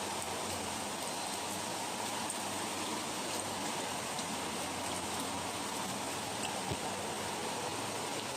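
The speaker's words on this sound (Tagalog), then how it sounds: "Lakas ng ulan." Heavy rain falls during a typhoon, a steady, even hiss of drops on surfaces, moderately distant and constant, with no talk over it.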